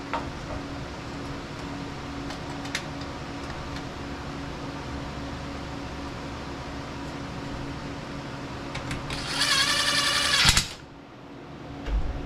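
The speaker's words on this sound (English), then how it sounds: "We're gonna go ahead and get these screws started here." A power driver sets screws into a salvaged dumpster-dived refrigerator, giving one short, bright whirring burst near the end over a steady low room hum.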